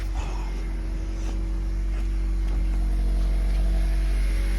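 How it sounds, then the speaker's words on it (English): A Honda K24 engine idles as it warms up after a timing chain job, a steady low rumbling hum close by with faint ticking and no talk. "I'm gonna let the car warm up and run"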